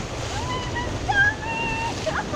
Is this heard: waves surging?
yes